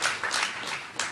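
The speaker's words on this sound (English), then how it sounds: "he deserves a major round of applause" Audience applause for David Korins, set designer of the Broadway musical Hamilton: a short burst of steady, dense clapping that swells and dips slightly across its length, fairly quiet and without speech.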